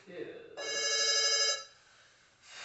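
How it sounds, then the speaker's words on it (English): A telephone rings with an incoming call, a single loud electronic ring lasting about a second, followed by quiet and the start of another ring, with brief talk just before. "I will answer this phone call because this is my next client."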